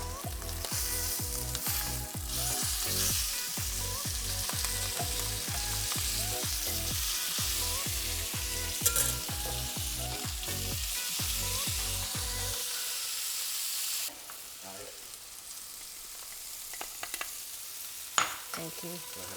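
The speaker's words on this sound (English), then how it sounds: "I'm going to cook skin side down first" Fish fillet frying skin side down in a hot pan for seafood pasta, a steady loud sizzle with bursts of crackle, then quieter spitting toward the end.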